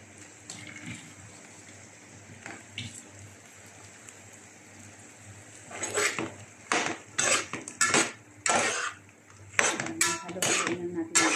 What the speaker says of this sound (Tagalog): Haluin lang natin guys ang hipon.